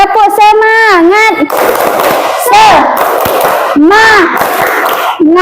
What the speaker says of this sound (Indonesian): Kita tepuk semangat dulu. Yuk, tepuk semangat.